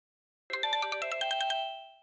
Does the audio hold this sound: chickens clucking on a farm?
no